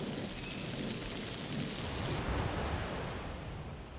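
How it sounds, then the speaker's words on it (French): Heavy rain pouring down on an equatorial forest, a dense, continuous roar of water with a low rumble underneath, loud and steady with no voices. "des trombes d'eau arrosent la forêt équatoriale"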